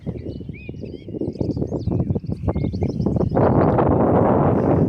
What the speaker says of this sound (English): if I shut up for a minute, you can hear all those birds in the trees